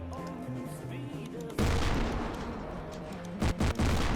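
Heavy ACF tank cannon fire in Garry's Mod, a sustained loud roar of blasts beginning partway through with a couple of sharp louder booms near the end.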